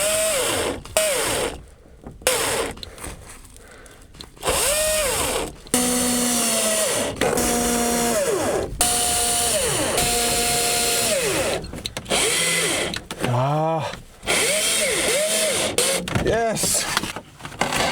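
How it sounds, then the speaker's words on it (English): A cordless power drill drives screws into logs at an off-grid cabin site in Finland, heard as repeated motor whines that rise and fall in pitch and strain under load, with pauses between bursts and people talking throughout. "I need to check if my drill has enough power to put these 4 in."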